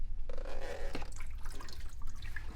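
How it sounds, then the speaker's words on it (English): Water splashes and trickles as a basin is emptied and rinsed at a sink during perineal care, quiet clattering and dripping in short irregular bursts with no talk. "I'm going to empty, rinse, and dry my basin"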